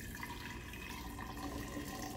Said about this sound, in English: let's start out by first pouring our hot water into the jar